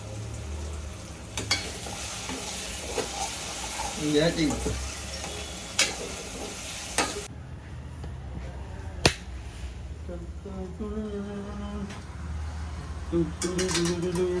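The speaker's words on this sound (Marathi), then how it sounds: "आम्ही चिकन फोडणीला दिलेलं आहे." Steady sizzling and crackling of chicken frying in a hot pan with onions, with occasional sharp clicks and utensil scrapes.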